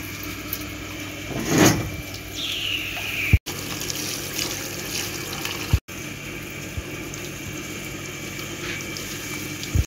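Water pours steadily into an air cooler in a village at night, a continuous close rushing and gurgling with no voices.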